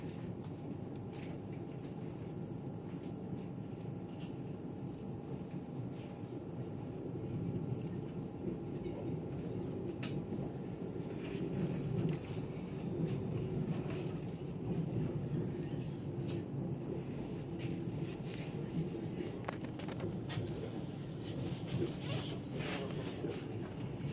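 A Lastochka passenger train runs from Sochi to the Rosa Khutor mountain resort, with a steady, close rumble of carriage and track noise that swells slightly midway and continues throughout, joined by occasional faint clicks.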